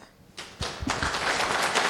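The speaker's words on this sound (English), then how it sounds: "And round of applause for her." Audience applause at a FOSDEM Go devroom lightning talk, starting as a few scattered claps and swelling within a second into dense, sustained clapping from a roomful of people.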